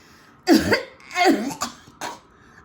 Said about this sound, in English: he coughed and he whiffed and he sneezed